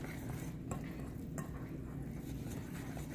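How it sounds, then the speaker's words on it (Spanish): Crepe batter of milk and a spoonful of vanilla is whisked in a bowl, producing a quiet, steady scraping and sloshing with a couple of light clinks against the bowl. "Vamos a mezclar todo"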